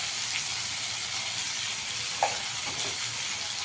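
Mashed taro with turmeric and salt fries in a pan, giving a steady soft sizzle throughout with a faint scrape of stirring partway through, no voices.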